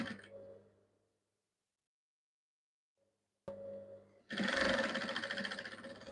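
A sewing machine stitching the neckline pieces of a gown, giving a short whirring run at the start, then quiet, a click, and a steady close buzzing run of stitching in the last two seconds.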